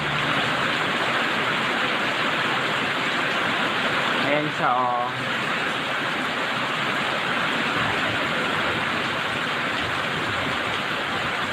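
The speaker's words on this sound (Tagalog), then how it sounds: "Patapos na yung ulan." Heavy rain in Santa Maria, Pangasinan, easing off, a constant dense hiss of falling water throughout, with a voice speaking briefly over it midway.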